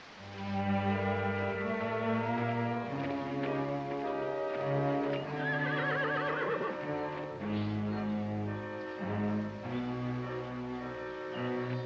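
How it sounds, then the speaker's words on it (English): Horses whinny and neigh repeatedly and loudly, long wavering calls following one another, with faint hoof clopping in the background. "We'll get the horses, Reese."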